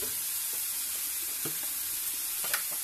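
Bacon lardons go into a pan and sizzle with a faint, steady hiss, broken by a few small pops and clicks.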